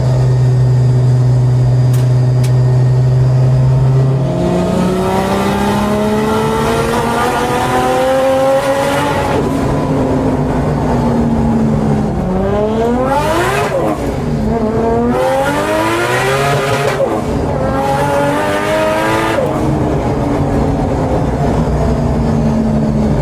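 A loud turbo Nissan RB25 engine in a 1989 S13 Silvia drones, then climbs and bounces repeatedly against the rev limiter, its pitch sweeping up and down over sustained revving.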